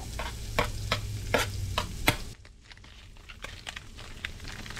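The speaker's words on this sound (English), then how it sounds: "I've got the pan on a medium heat. Get my onions in there." Onions frying in a pan over medium heat, with a steady sizzle and several sharp stirring clatters in the first half, then a quieter, softer sizzle with light ticks after about two seconds.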